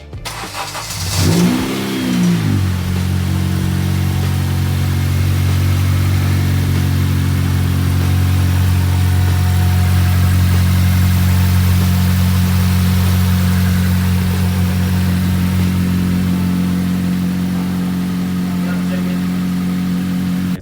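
A Honda Civic K20C2 2.0 engine cranks and catches, briefly revs, then settles into a loud, steady low idle that rumbles on unchanged for a long stretch.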